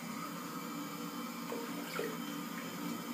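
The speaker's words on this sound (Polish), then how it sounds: "to znaczy spłukuję twarz" Tap water runs steadily into a sink while someone rinses their face, a faint continuous stream with a few soft splashes and drips, no talking.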